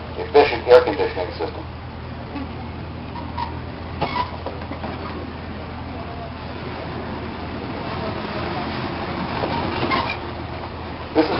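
Vintage trolley car, number 38, passing in a founder's day parade at a trolley museum, with rumbling wheels and a few clacks and knocks over steady rolling noise while someone narrates throughout.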